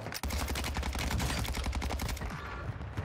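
Cronen Squall gun firing continuously in a video game at Vondel Park, a dense and loud automatic stream of shots with no gaps for about three seconds.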